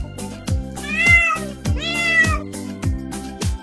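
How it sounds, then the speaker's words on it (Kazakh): Cartoon cat meowing in a children's animal-sounds piece: two clear, drawn-out meows set against a bouncy rhythmic music track, loud and close. "Мысық,"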